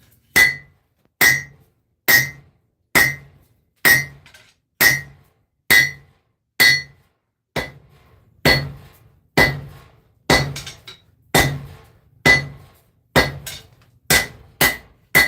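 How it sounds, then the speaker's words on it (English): Heavy hammer blows on hot metal at a forge, a steady series of about twenty sharp, ringing strikes spaced roughly every second, loud and close, with brief pauses and quicker pairs near the end. "let's just do some heavy duty forging"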